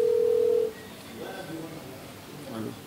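A single steady telephone call tone sounds briefly at the start of an outgoing call, clear and prominent, then gives way to faint background murmur.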